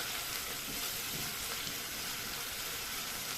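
Onion sizzles as it fries in a pan for Egyptian koshari sauce, a steady, even hiss of frying that holds without pause throughout.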